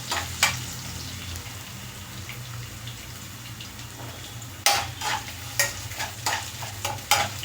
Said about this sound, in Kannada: ಇದನ್ನೆಲ್ಲ ಒಗ್ಗರಣೆಯಲ್ಲಿ ಸ್ಟವ್ನ ಸ್ವಲ್ಪ ಸ್ಲೋ ಮಾಡ್ಕೊಂಡು